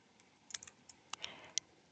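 A few faint, scattered keystrokes tap on a computer keyboard in a quiet room, with light clicks spaced irregularly and no voices.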